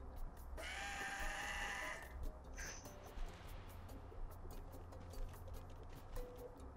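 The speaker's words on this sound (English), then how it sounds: "The goat noises are real" A goat in the video game Goat Simulator lets out a loud, drawn-out bleat, followed by a shorter cry, over faint background game noise.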